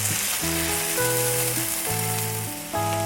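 A tomahawk steak sears in a hot pan, a loud continuous sizzle heard up close, with background music.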